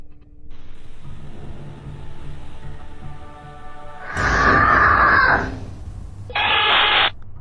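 Loud, piercing scream caught on a Ring nanny cam in a toddler's room, bursting out over a low hum and static, followed shortly by a second shorter shrill burst.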